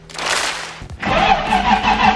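A BMW 325i E36 engine cranks briefly, then catches and runs steadily, a loud mid-pitched rumble that continues to the end.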